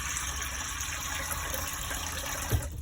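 Small mixer tap in a Chausson Allegro motorhome bathroom runs water in a steady close hiss and gush, with a short clunk near the end, no one speaking.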